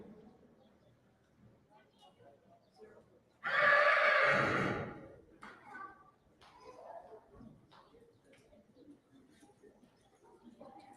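A Haflinger filly at a registry sale in Ashland, Ohio gives one loud, close neigh lasting about a second, followed by softer snorts and shuffling sounds against a quiet background.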